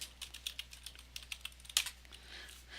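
Fast keystrokes on a computer keyboard, a steady run of light, close clicks with one sharper tap near the end, no voices.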